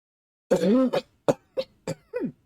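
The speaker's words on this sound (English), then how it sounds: "this coughing is making me crazy" A person coughs in a quick series of five harsh bursts, the first one long and raspy, close to the listener.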